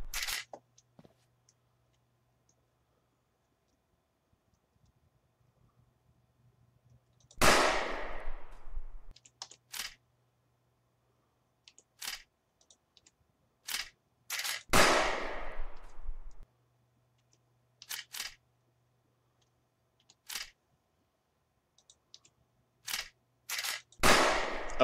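Pistol shots in the video game Sneak Thief ring out singly, each a sharp crack with a decaying ring, spaced by silences and interspersed with small clicks, close and loud.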